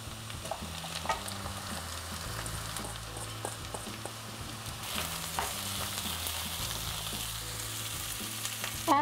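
Rice being sautéed in a hot pan for peanut rice pilaf, a steady close sizzle with repeated scraping stirs running alone throughout, with a louder clatter at the end.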